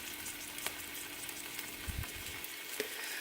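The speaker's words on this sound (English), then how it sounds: "It's sizzling up for you." Steady, close sizzling of potatoes frying in a pan, a constant crackling hiss with occasional small pops.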